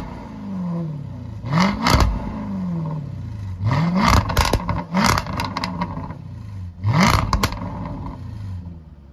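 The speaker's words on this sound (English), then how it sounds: "Underneath the bonnet, we have a 5-litre V8 petrol engine," A 2016 Jaguar F-Type SVR's 5-litre V8 petrol engine rated at 560 horsepower, revved in three sharp blips that rise and fall back to idle, loud and close with a crackling exhaust edge.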